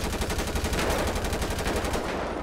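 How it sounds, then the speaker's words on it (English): Rapid automatic gunfire during a video game police chase, a fast, steady, loud stream of shots that runs without pause for about two seconds before cutting off. "Oh, shots fired on me."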